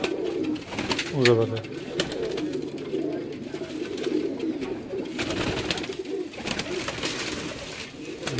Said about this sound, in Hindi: ये मारूफ भाई के घर का कबूतर है जी